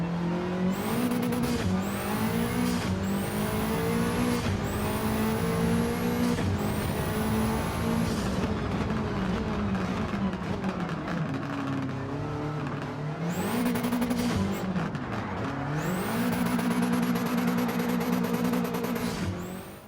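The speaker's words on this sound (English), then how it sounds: "Slapping on the turbo kit will also result in some very whooshy turbo noises." Turbocharged car engines in Gran Turismo 7 rev and shift repeatedly, with rising whooshy turbo spool and blow-off noises over a steady loud drone, no voices.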